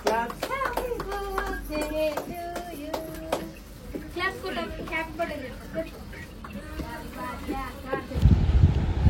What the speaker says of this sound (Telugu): వాడు క్లాప్స్ కొడతాడు